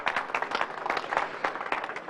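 Applause breaks out at a Royal Enfield stand at the EICMA 2021 motorcycle show, dense overlapping claps rising and falling steadily through the moment, moderately close and fairly quiet.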